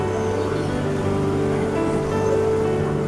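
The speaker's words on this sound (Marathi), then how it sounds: "नदीला पाणी बऱ्यापैकी आहे, फोर्स खूप जास्त आहे पाण्याला." Fast-flowing river with strong current, a steady full rushing and churning of water close by, loud and continuous with no voices.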